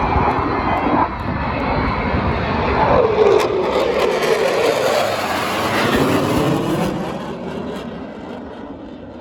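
The 2023 Blue Angels jet formation passes over an air show with a loud, sustained roar that swells and then trails off as the aircraft move away. There is no talking.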